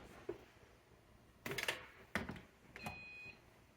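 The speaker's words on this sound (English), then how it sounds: "It's beeping at me." A Spider Farmers G12 hydroponic growing system gives a short, high beep after a few clicks and handling noises, quiet and close by.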